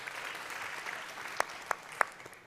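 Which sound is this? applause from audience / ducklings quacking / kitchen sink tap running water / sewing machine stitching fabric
applause from audience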